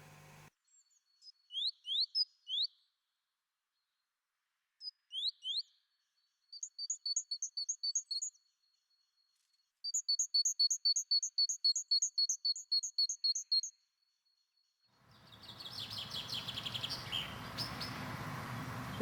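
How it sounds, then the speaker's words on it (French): A great tit gives repeated high, ringing two-note phrases in several bursts with pauses, followed by a rush of broadband noise at the end. "la mésange charbonnière,"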